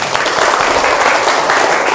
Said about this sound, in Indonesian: Tepuk tangan dulu untuk Cantika